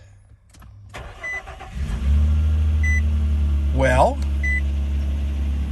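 A Nissan car powering on sounds a few short dashboard warning chimes and beeps, heard over a low engine hum that rises as the engine starts, while a person talks briefly.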